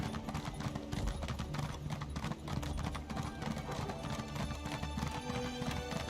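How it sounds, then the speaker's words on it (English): Steady clip-clop of horse hooves from a riding horse in a fantasy role-playing video game, a continuous galloping rhythm under ambient game music with a faint snort, no talk. "Ride, little horsey,"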